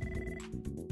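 An office telephone rings with a short electronic bell burst, clear and close, heard alone for about a second.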